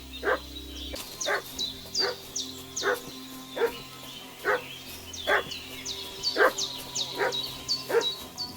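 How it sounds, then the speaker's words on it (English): Repeated dog barking in the medieval game Kingdom Come Deliverance II, roughly one bark per second at a steady rhythm, moderately near and clear, with high bird-like chirps and faint ambient background beneath and no talking. "What's that dog making such a fuss about?"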